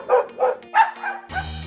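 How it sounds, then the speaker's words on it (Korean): Three quick, loud AI-generated dog barks in close succession, followed by a brief low tonal hum, with no other sound around them. "개 짖는 소리"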